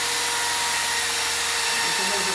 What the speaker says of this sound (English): A little bit more pressure, forward pressure on that drill.